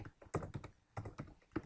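Typing on a computer keyboard, a short run of close, crisp key clicks in uneven bursts with brief pauses between them and no talking.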